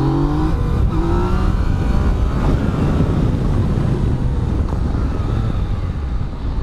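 A Yamaha Tracer 900 (2018) motorcycle engine revs hard during a wheelie, a loud, close, continuous roar with rising and falling pitch as the throttle works, with no talk over it.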